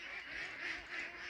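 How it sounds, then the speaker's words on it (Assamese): Ducks on a farm give a few nasal quacks in quick succession, close and fairly loud, with nothing else heard. "হাঁহবিলাক ডাঙৰ হৈ গ'ল"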